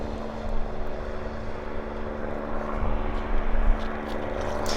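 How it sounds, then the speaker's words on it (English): Lockheed Hercules engines run during ground maintenance at an airfield, giving a steady distant propeller drone with a humming tone. It holds at an even level throughout without voices. "They're running a Hercules there. You can see the engines running."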